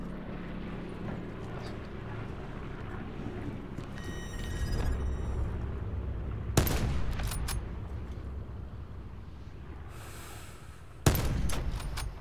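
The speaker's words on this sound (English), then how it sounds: "I just wanted to give off some shots with a sexy gun" Gunfire in Call of Duty Black Ops 4 Blackout mode, a few sharp shots cracking out at about 6.5 and 11 seconds over a steady rumbling game backdrop of engine-like drone and clatter.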